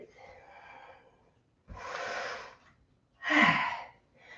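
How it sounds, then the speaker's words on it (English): Breathing in a flowing yoga sequence, a few separate breaths, the last a strong, close exhale, with a softer airy sound at the start and a brief puff at the end. "Breathe."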